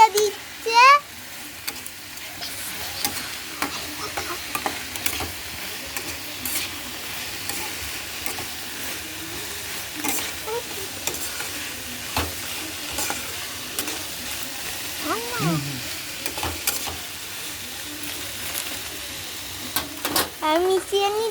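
Chilli powder and spices, with Maggi masala, being stirred in a pan for homemade veg momos: intermittent scraping and clicks over a soft sizzle, with voices, including a child's, talking throughout.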